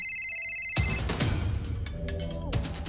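A phone ringtone plays, a short electronic melody that gives way to a busier clatter of sound partway through.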